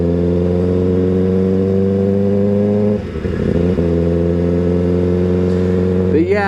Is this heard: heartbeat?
no